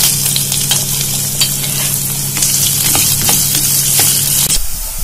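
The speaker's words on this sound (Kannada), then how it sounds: "ಆಮೇಲೆ ಈರುಳ್ಳಿ ಹಾಕಿ ಕಂದು ಬಣ್ಣ ಬರೋವರೆಗೂ ಹುರ್ಕೋಬೇಕು." Onions frying in oil for vegetable pulao, a loud, close and constant sizzle with repeated scraping stirs across the pan, cutting off abruptly at the end.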